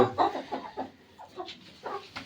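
Hens kept indoors against the cold cluck in short, close, uneven bursts, a handful of separate calls over about two seconds with no talking.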